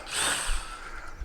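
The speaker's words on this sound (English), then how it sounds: "Screwdriver. So, 2 screws at the top of the footboard." A power screwdriver whirs briefly as it drives a screw into a footboard during a front-section rebuild, a short close whine with a low thud near the end.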